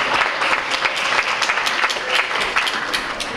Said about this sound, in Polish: i brawa dla nich.